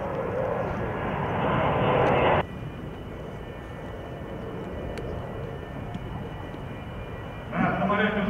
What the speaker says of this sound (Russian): На самолете установлены новые двигатели ПС-90А2 с повышенными показателями ресурса и надежности.